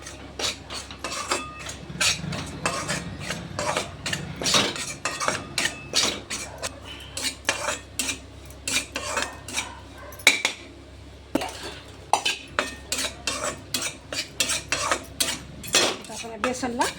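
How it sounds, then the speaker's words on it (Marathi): Metal spoon scraping and clinking against a pan again and again as gram flour (besan) roasts in a little oil, a quick uneven rhythm of close, fairly quiet taps and scrapes. "हे बेसन छान भाजून घ्यायचं"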